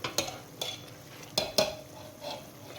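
Ground oats and barley powder being stirred into Hyderabadi mutton haleem in a pot, giving a few sharp utensil knocks and scrapes over a low, quiet simmer, with no talking.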